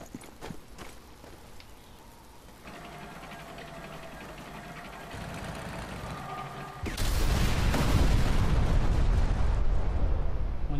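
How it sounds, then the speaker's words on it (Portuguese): An armored vehicle and ammunition depot blow up in the Sniper Elite 4 video game: a rumbling, crackling low roar builds and then erupts into a loud, sustained, dense explosion that continues to the end. "Vou explodir esse blindado aí agora"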